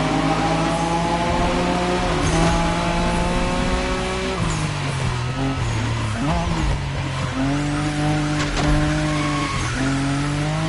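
In The Crew Motorfest, a car drifts at speed, its engine roaring with rising and falling revs. Tires squeal steadily throughout, loud and close.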